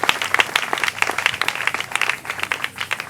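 A church congregation applauds the Lord with dense, sustained clapping that fills the hall at close range.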